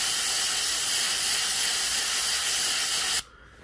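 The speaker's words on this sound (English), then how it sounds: "I'm going to go real light and just keep moving the tip of my airbrush and fill that in with black." An airbrush sprays black paint onto a red lipless crankbait lure, a steady close, loud hiss that runs for about three seconds and then cuts off sharply.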